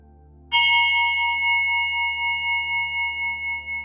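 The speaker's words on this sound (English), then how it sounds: "I love this bell." A single strike on a small bell, a bright, clean ding that rings on with a long, slowly wavering sustain in a quiet room.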